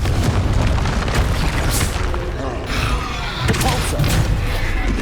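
Booming Confringo spell blasts from the Hogwarts Legacy video game, loud and continuous, with layered bursts and rumbling impacts packed tightly together amid game effects.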